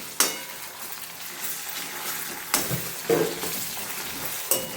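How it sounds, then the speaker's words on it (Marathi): Ginger-garlic paste sizzles in a pan while being stirred in for egg curry, with a steady broadband fry and a few sharp scraping clicks of a spoon against the pan. No talking. "तर 1 चम्मच आपण टाकतोय आलं लसूणचं पेस्ट ह्याच्यामध्ये"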